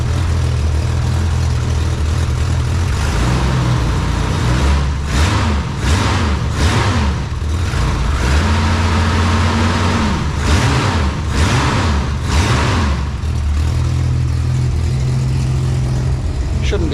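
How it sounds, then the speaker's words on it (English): A Holden LX Torana hatchback engine runs with an unfinished exhaust that leaks at a couple of unwelded joints, giving a loud, steady rumble with several revs rising and falling. "the exhaust leaks from the couple of spots that aren't finished being welded off do sound pretty ordinary"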